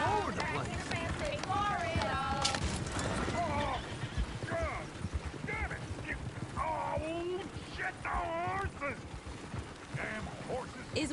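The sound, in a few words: horse running and neighing in Red Dead Redemption 2 video game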